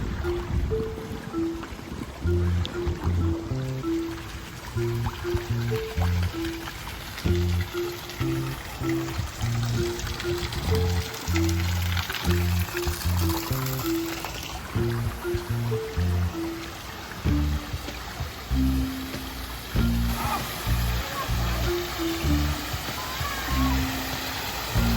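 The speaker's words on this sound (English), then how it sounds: "we're going into the lazy river here" Water runs steadily through a lazy river pool at Cabana Bay Beach Resort in Universal Orlando, a constant wash under upbeat background music, with a voice now and then.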